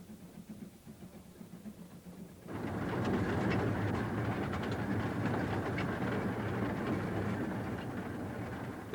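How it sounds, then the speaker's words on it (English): A narrow-gauge train (2 ft 6 in) in Wales rumbles along rails between hedges, starting suddenly loud after a quieter opening and continuing with a steady clattering roar close by. "this does allow the train almost to wriggle along between the hedges"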